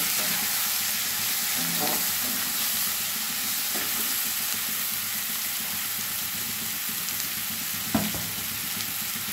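Spice paste and mixed vegetables fry and get stirred in a pan, producing a constant bright sizzle with occasional scraping knocks from the spatula, close and fairly loud.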